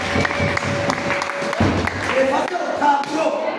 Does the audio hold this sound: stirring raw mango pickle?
no